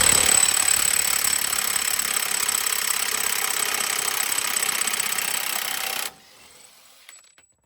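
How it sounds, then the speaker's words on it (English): A steady, loud impact wrench hammers for about six seconds to break loose a steering knuckle bolt on a 1998–2002 Honda Accord, then cuts off abruptly, leaving a faint mechanical tail. "with the impact you should be able to release it"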